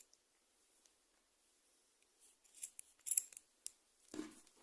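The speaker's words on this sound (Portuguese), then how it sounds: "Daí, a gente vem com a tesoura" Scissors make a few quiet snips, cutting the yarn of a crochet heart keychain. The short, crisp cuts come in a small cluster in the second half against near silence.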